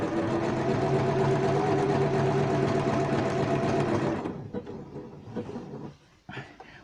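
A sewing machine runs steadily while stitching appliqué, a continuous loud mechanical whir for about four seconds, then stops, leaving faint clicks and handling noises.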